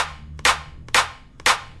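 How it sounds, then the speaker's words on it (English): A custom clap sample triggered from a Logic Pro X Drum Machine Designer kit, sounding three crisp, evenly spaced claps with short bright decays, close and dry, no voices. "I've got my new clap in my old drum kit"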